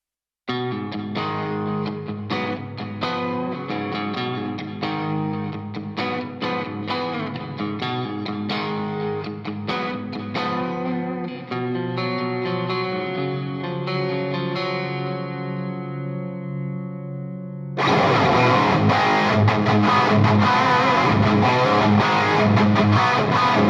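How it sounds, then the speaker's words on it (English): Electric guitar drenched in delay and reverb, layered notes ringing and smearing into each other, then a louder, denser distorted passage near the end. "I'm going to add in the delay and the reverb in, just so that you can hear it with all of the effects"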